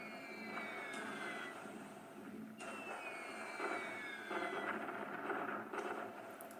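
Dive bombers screaming in on an attack in the War in the Pacific strategy game: repeated descending whistling squeals over a steady roar of aircraft engines, three dives in succession with rumbling blasts underneath, no voices.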